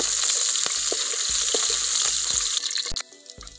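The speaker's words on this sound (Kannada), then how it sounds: "ಈರುಳ್ಳಿ ಫ್ರೈ ಆಗಿದೆ." Onions fry in hot oil with a loud, dense sizzle punctuated by rhythmic spatula scrapes and knocks against the pan, the frying dropping away sharply near the end after a final clank.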